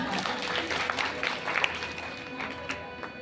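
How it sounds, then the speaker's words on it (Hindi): An audience claps steadily throughout at an Arya Samaj bhajan performance, a dense, even patter of many hands that neither builds nor fades. "ताली बजा दो एक बार"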